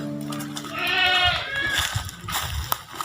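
A goat bleats nearby in a few wavering, nasal calls, the longest stretching through the middle, with scattered rustling and small knocks around it.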